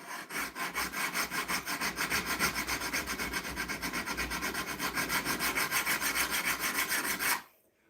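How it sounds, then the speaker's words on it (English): A flat, hard hand file is pushed across a steel knife blade to flatten it, producing loud, rhythmic rasping strokes in a steady back-and-forth pattern for several seconds before stopping abruptly. "you take a file which is perfectly flat and hard and make this blade nice and flat going across"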